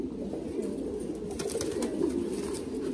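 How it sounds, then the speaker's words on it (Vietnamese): Thai Titan meat pigeons coo in a dense, continuous chorus at a breeding farm, many birds overlapping in low rolling murmurs with no gaps, close and steady throughout. "Đây là toàn bộ chim bồ câu Titan sinh sản nha mọi người."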